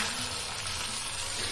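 Small choora fish frying in a pan, a steady, even hiss and crackle of hot oil filling the whole short stretch with no break and no voices.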